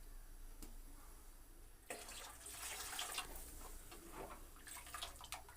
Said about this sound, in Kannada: ನೀರೊಂದು ಸ್ವಲ್ಪ ಹಾಕ್ತೀನಿ.